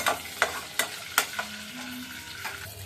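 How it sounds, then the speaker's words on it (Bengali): Sun-dried rice frying with fenugreek seeds in hot oil, a soft steady sizzle broken by a handful of sharp stirring scrapes at irregular intervals, close and quiet with no talk. "একটু আতপ চাল ছেড়ে দিলাম, আতপ চালটা একটু ভাজা হোক।"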